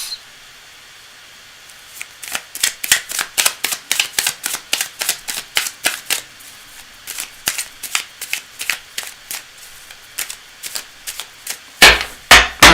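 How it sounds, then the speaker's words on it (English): Tarot cards being shuffled during a live reading, a long run of quick crisp riffles and taps in an uneven rhythm, close and clear, with a louder rustle near the end. "I'm just going to shuffle this up and clear it for the next time"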